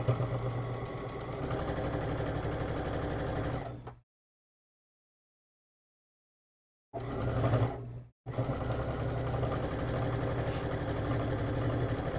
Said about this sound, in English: One more seam and this block is done.